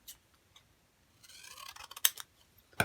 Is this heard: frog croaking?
no